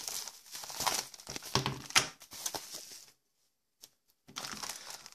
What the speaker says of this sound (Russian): А здесь пупырка.